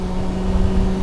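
A Kawasaki ZX-9R motorcycle engine hums steadily and loudly at close range as the clutch is eased out. The tone is a low, even drone with a slight rise and waver in revs.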